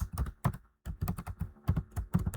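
Rapid keystrokes on a computer keyboard as a price value is typed into a program input, crisp clicks in quick bursts with a brief pause partway through, close and fairly loud with no talking.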